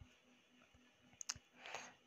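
Computer mouse clicks in a quiet room: a few faint, sharp single clicks spaced irregularly, with no talking over them.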